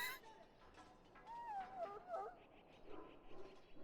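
A large hound in Dragon Age whimpers and yips in a high, wavering, fairly faint way, and in-game voices talk over it.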